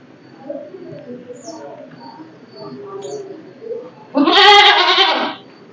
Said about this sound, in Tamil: ஆடெல்லாம் கத்துது.